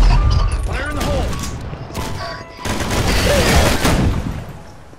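A grenade explosion and gunfire in the video game Counter Blox, a loud, continuous barrage of shots and booms that fills the whole stretch with only a brief dip partway through.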